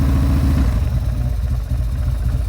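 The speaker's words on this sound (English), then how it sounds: "So here it is, just idling." A 2000 Buell M2 Cyclone motorcycle engine idles close by with a steady, throbbing low putter and some rattling, running on without pause.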